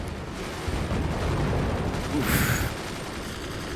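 Missile-filled battle in the strategy game Forts, with swarm missiles launching: a dense, rumbling barrage of rapid bursts and crackles, plus a bright whooshing flare near the end and a brief voiced exclamation.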